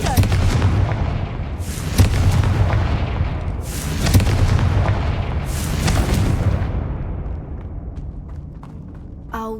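Booming explosion spells cast in the Hogwarts Legacy video game, three heavy blasts roughly two seconds apart over a dense rumbling game soundscape, each with a bright crackling burst on top.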